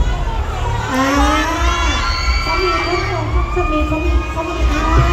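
Excited fans scream and shriek in a loud, continuous crowd din at a fan meeting for the Thai stars Meen and Ping, with high, wavering cries overlapping throughout.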